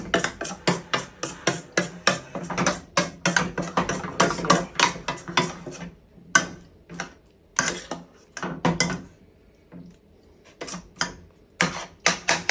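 A spoon scrapes a thick cornmeal mixture down the side of a cooking pot in quick, rhythmic strokes, loud and close, with a short lull before the scraping picks up again.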